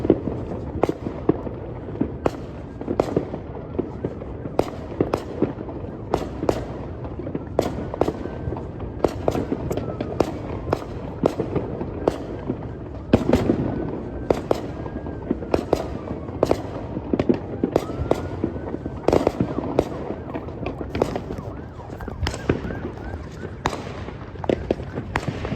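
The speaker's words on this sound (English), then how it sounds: "we're just gonna be listening to fireworks" Fireworks exploding on Fireworks Day, a long run of sharp cracks and booms at irregular intervals, some near and loud, others distant, with occasional voices in the background.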